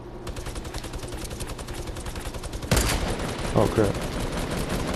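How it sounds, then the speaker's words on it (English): A minigun in the Fortnite video game fires a dense, rapid, unbroken stream of shots that grows louder midway, while a player briefly speaks over it. "to let this minigun rip"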